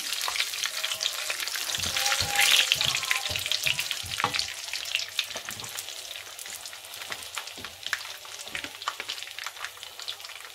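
Bay leaves and dried red chillies fry in hot oil for a home-cooked vegetable dish, giving a steady, close crackling sizzle with brief stirring scrapes, louder early on and then settling.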